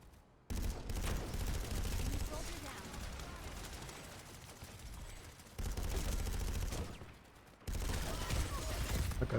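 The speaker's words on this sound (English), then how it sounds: "That guy's shooting." Rapid automatic gunfire rattles in a shooter game, with sustained bursts broken by brief pauses and resuming, fairly loud and dense throughout.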